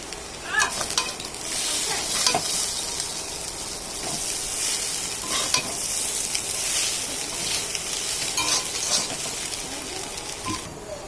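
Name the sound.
stirring and frying chow mein with sauce and spices in a pan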